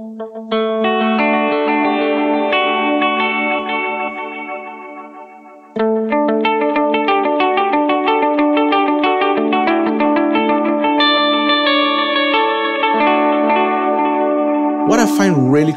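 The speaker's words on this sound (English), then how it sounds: "What I find really cool about the Halo delay settings on these two blocks is that it creates a full reverb because of that very long and modulated delay trail" Electric guitar run through two stacked Halo delay blocks on a Line 6 Helix, sustained chords swelling into a long, modulated, reverb-like wash of repeats, loud and alone, with a brief pause midway and a sharp pitch-bending flourish at the end.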